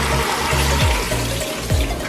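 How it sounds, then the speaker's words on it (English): Water poured into a cooking pot while making Jamaican curry goat, a steady continuous splashing and running-liquid wash, close and fairly loud, with no talking. "So I'm gonna go ahead and add the water"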